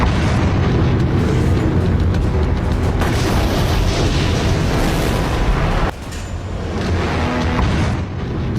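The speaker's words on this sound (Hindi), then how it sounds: "जबरदस्त धमाका" A massive explosion roars continuously, a dense, rumbling blast that stays loud throughout before briefly dipping and surging again.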